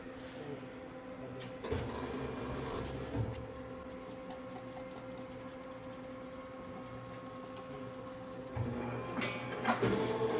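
An H85AX cylinder honing machine with hole-to-hole capability hones engine cylinders, giving a steady mechanical hum with a constant tone, punctuated by occasional clunks and knocks as it works from bore to bore.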